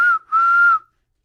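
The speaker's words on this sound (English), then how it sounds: "Jim, you want to blow the halftime whistle over there?" A halftime whistle blown for a sports podcast segment, one loud, clear, steady tone with a brief gap, then a second longer blast that cuts off cleanly, heard alone without talk.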